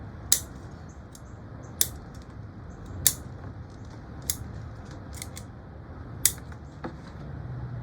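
Sharp, distinct snips of scissors cutting through Japanese zelkova roots during repotting, about six isolated clips spaced a second or so apart, close-up over a quiet background.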